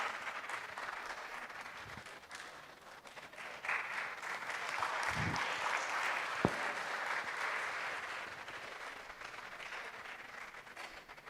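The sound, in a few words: audience applauding, standing ovation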